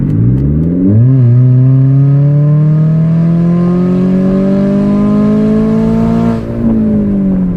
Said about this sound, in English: there's 60 with windows up, exhaust valve open, and here we go